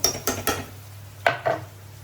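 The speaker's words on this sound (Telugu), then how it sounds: "ఇప్పుడైతే ఉల్లిపాయలు కూడా వేగుతున్నాయి కదండి, ఇవి కూడా గోల్డెన్ కలర్లో వేగే వరకు వేపుకున్నాము" A metal spoon clanks and scrapes in a pan as onions fry golden for gongura chicken, giving a few quick close stirring knocks with a faint sizzle beneath and no voices.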